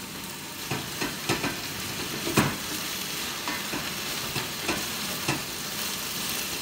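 Vegetables fry in hot oil in a pan, giving a continuous bright sizzle with intermittent stirring scrapes and crackles.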